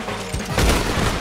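Gunfire from a Glock pistol in the online Western game Red Dead Online, a loud, sharp burst of shots with a heavy low boom near the middle, packed close together and heard alone.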